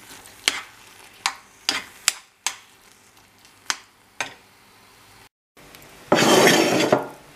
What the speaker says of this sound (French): Je fais sécher mon caviar d'aubergine sur feu vif avec des branches de thym